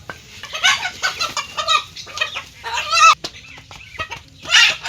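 A large rooster caught in a net gives repeated agitated clucks and squawks in short, close bursts, with brief scuffling between calls.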